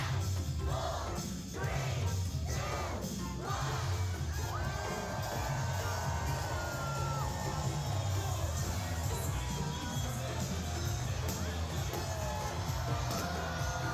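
A very large crowd cheers aboard the Anthem of the Seas cruise ship as a huge stocking of balloons drops on them during a birthday party, with whoops and children's shouts in a busy, echoing space over background music.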